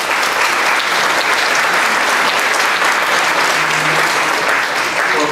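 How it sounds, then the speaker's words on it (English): Sustained, loud audience applause for a guest speaker at a Council on Aging meeting, steady dense clapping filling the room without letup. "We'd like to give him a nice round of applause for coming in today."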